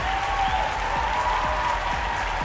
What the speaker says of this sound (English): The crowd is loving that.